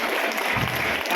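An audience on its feet at a motivational talk keeps clapping for itself, a thick, even burst of many hands applauding at close range, with no speech heard.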